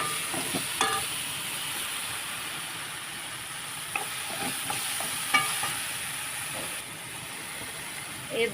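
Tomatoes seasoned with salt cook in a pan with a steady hiss and sizzle, punctuated by a few clinks and scraping stirs, close and alone with no talking.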